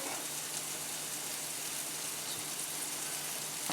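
Minced garlic sizzles in a hot pan, a steady, continuous close-up hiss with no talking.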